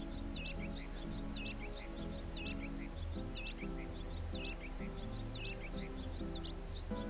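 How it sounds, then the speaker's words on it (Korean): Repeated high chirps from birds in the video game My Time At Portia, a steady series of short tweets over a dense, even game music and ambience bed. "아, 새소리가 너무."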